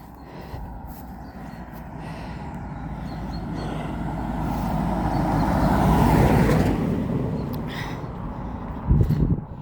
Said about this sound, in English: I'm hearing another car coming from somewhere.